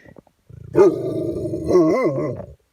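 A dog inside a tent during a snowy camping trip growls and grumbles in a sustained, wavering low rumble lasting about two seconds, rising into a louder, whining peak near the end, close and clear with no talk.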